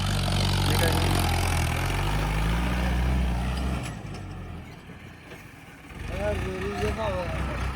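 A tractor engine runs loudly during an off-road stunt, a low steady drone that drops away briefly and returns, with people talking over it.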